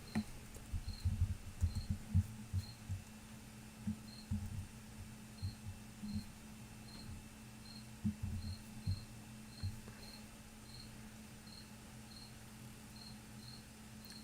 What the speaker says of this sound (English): If you guys can hear cricket chirping in the background